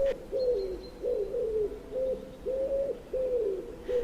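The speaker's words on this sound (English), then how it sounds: "The wood pigeon will sing and he will emphasise that he is a pigeon, not a dove." A wood pigeon coos its song in a steady, repeated rhythm of soft hooting phrases, clear and fairly close against a quiet outdoor background, with no talking.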